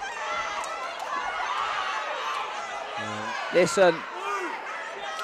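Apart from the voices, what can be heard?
boxing crowd cheering wildly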